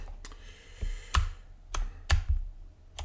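Scattered clicks of a computer keyboard, a handful of separate keystrokes tapped at an uneven pace, close and fairly quiet.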